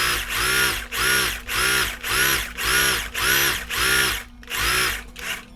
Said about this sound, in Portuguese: Coloco o tecido pra cá e venho batendo uma costura